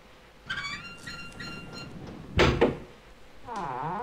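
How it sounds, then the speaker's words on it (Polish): Door opening in Tomb Raider II on the wreck of the Maria Doria: tonal creaks and chimes lead into a heavy thunk, then a sweeping metallic grind, all fairly quiet and without speech. "Otworzymy sobie te drzwi."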